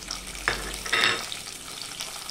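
Tomato and ginger paste hits hot oil in a pan, giving a steady sizzle with a louder crackling burst and stirring scrapes, moderately close with no talk.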